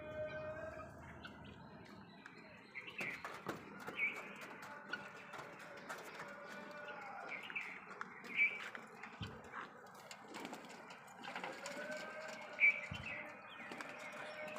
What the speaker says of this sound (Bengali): কবুতরের গোসল আর কি